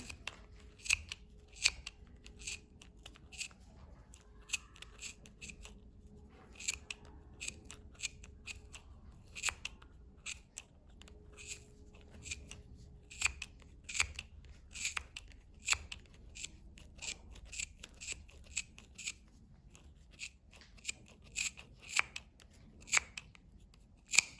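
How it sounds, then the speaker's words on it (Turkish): Scissors snip through knitted yarn of a children's beanie, with a long series of crisp, close cutting clicks in irregular bursts. "Şimdi bu hiç açılmadan yani bunu sıkı tutarak şu aradan kesmeye başlayacağız."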